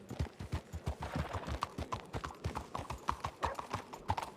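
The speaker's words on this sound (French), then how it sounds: "Ah bah il y a un cheval." Horse hooves clip-clopping in a steady walking rhythm, sharp, distinct hoof strikes close by with faint background sound.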